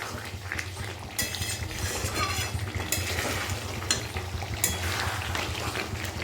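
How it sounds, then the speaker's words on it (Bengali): Marinated meat for biryani, soaked in yogurt, being stirred and sautéed in a pot, a steady sizzle under repeated scraping strokes of a spoon against the metal, close and moderately quiet, no talking. "এবার এভাবে কিন্তু মাংসটা কিছুক্ষণ কষিয়ে নেব"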